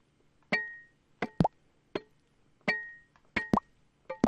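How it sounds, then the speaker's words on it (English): Sound effects from a Unity farming game: pickup blips and stone hits, a series of short popping and knocking hits in irregular pairs with silence between, clean and close. "here's the sound effect for pickup and stone hit"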